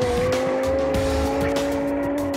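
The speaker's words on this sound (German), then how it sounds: "Denn beim Driften geht es nicht ums Schnell, sondern ums Spektakulärfahren." Tuned car drifting with sustained, loud tire squeal, a steady high screech over a continuous engine roar, close and unbroken throughout.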